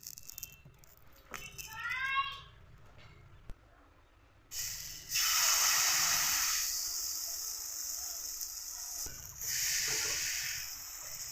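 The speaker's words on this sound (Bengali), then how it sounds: "আর একটু তেল ব্রাশ করে নিচ্ছি।" Oil brushed onto a hot tawa for patishapta pitha sets off a loud, steady sizzling hiss that swells and runs for several seconds, preceded by quieter clinks and faint scraping.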